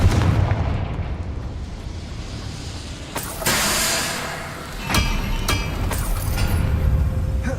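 A Confringo fire spell explodes in Hogwarts Legacy, modded, as a sharp boom and crackling burst amid continuous rumbling combat noise, followed by further impacts and debris.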